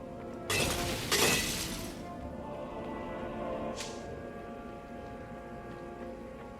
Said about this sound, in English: Smashing things was fun.